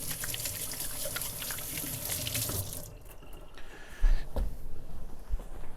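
A kitchen tap runs water into a pasta pot, a close, loud gushing stream for about three seconds, then the flow changes and slows, with a few clunks and splashes as the pot fills.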